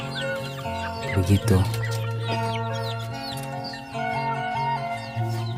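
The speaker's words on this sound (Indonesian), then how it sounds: "Ini anakan yang baru menetas loh" Newly hatched kampung chicken chicks cheep in quick, high repeated peeps around a farm pen, with adult hens clucking close by and a voice speaking briefly.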